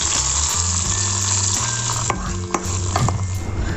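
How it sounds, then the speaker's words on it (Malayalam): Hot mustard seed tempering is poured into a just-cooked ash gourd and taro curry, producing a loud continuous sizzle and hiss with a few clanks of the pan, close by and without talk. "അപ്പം ഞാൻ ഈ കടുക് താളിച്ചത് ഇതിലേക്ക് ഒഴിക്കുവാണ്."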